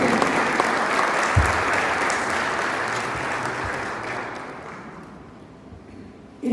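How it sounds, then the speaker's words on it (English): An audience at the 4th Pakistan Remittance Summit 2024 in Rome applauds in a dense, sustained wash of clapping that gradually thins and fades toward the end. "the round of applause going till the gentleman comes on stage"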